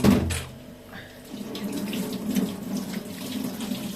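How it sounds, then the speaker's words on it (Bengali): Water runs from a tap over a stone grinding slab as it is rinsed in a kitchen, a steady nearby splashing flow. "একটু ধুয়ে নিই পাটাটা।"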